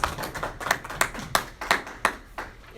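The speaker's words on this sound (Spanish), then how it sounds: "Recibamos con un aplauso" A small audience claps for a pair of interviewers. The claps are sparse and rhythmic, fairly close, and come at an even pace, like a few people clapping in time.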